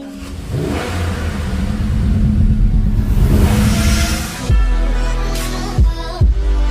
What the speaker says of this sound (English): 2017 Mustang GT. I get the resonator taken out, put some X pipes on them. Got a Magnaflow there.